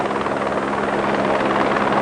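A helicopter's rotor drone holds steady and fairly loud, a continuous throbbing roar with no talking over it.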